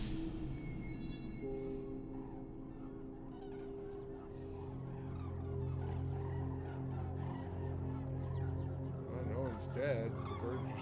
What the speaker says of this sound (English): The birds are still flying.